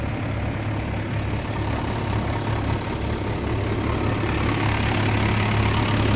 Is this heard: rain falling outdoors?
no